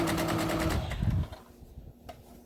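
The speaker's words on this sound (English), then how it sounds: "I'm sewing close to the stitch line" A sewing machine stitches the seam of a fabric surgical skull cap in a fast, rattling burst of about a second, then stops and leaves quiet room sound.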